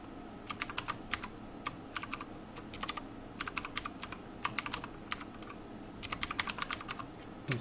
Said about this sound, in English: I'm just going to type it out this time.